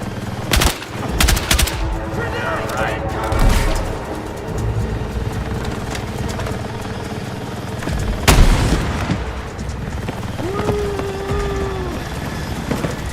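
Rapid bursts of video-game gunfire, machine-gun rattles and booms, crackle through a dense battle soundscape, with a sharp loud blast near the eighth second and a rising whine late on.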